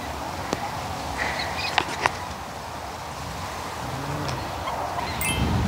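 At Siheung Gaetgol Ecological Park in Korea, a bird gives a low, croaking, frog-like call. It is faint and intermittent amid outdoor ambience and a few sharp clicks.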